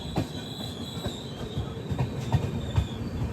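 A train stands at the outer approach to Udaipur City station, with irregular metallic clanks and squeals from wheels and couplings, moderately close and quiet, over a low steady rumble.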